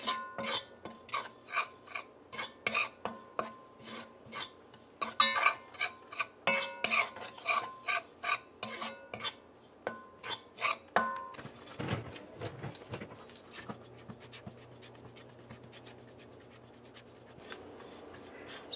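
Flour parched in ghee is stirred and scraped in a pan, a rhythmic series of rasping strokes with metallic spoon knocks, close and steady, fading to softer scraping and a faint sizzle near the end.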